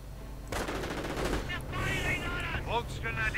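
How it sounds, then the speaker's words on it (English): Anti-tank gun taking a hit during a German armoured assault in a World War II strategy game, heard as a loud, dense burst of gunfire and impacts that starts abruptly and continues under battle noise and game voice callouts. "Anti-tank gun taking a hit."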